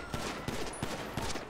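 Video game gunfire in a GTA 5 roleplay session: a quick burst of four sharp shots at a fairly even pace, moderately quiet and set against game ambience.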